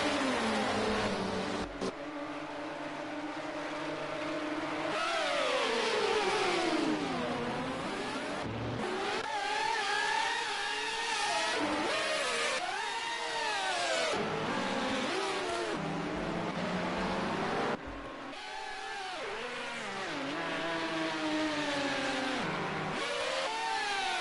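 LMP prototype race car engines in a WEC endurance racing video game replay at the Red Bull Ring, with loud engines revving and shifting through gears, repeatedly rising and falling in pitch as cars pass, continuous throughout.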